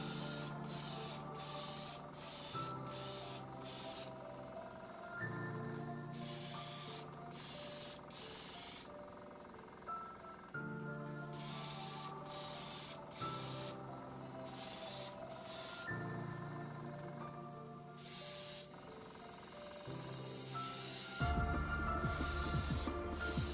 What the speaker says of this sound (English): So I sort of spray it from a reasonable distance first of all